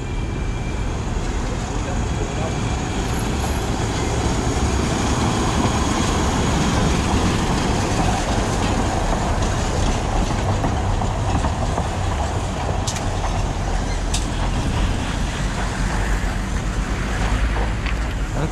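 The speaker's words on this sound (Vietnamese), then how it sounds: "Đây là một chiếc tàu điện thời Liên Xô này." A Soviet-era electric tram runs through a North Korean street with a steady, continuous rumble of wheels on rail and faint clicking over broadband traffic noise for the whole stretch.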